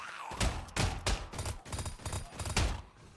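Gunfire in the zombie shooter Zombie Escape, a steady series of punchy shots roughly every third of a second, loud and close with no talking over it.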